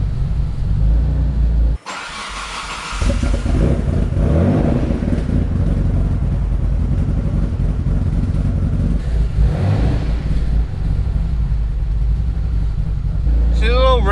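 A built twin-turbo Mitsubishi 3000GT engine catches after a brief gap and settles into a loud, steady roar. It climbs in pitch as the revs rise partway through, while a voice talks over it.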